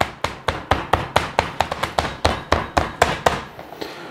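Beef steaks for Esterhazy Rostbraten being pounded by hand to tenderize them, a fast, even series of about twenty sharp slapping thuds, close and loud, with no talk.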